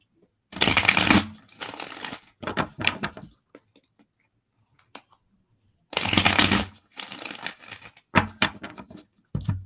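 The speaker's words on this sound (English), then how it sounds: "A couple more shuffles for Taurus." Tarot cards are shuffled close up in repeated riffling bursts, with short quiet gaps between rounds of shuffling.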